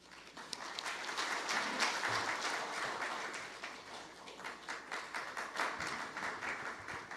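An audience at a National Assembly policy forum applauds, a dense, even wash of many clapping hands, fairly faint and heard from a distance, sustained throughout.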